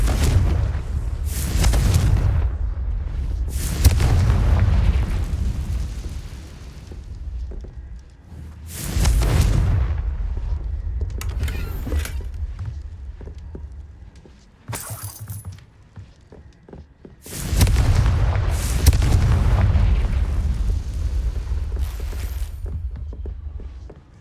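Confringo blasting spells burst in Hogwarts Legacy, a series of heavy booming explosions arriving in separate bursts with rumbling tails, mixed with crackling debris and quieter gaps in between.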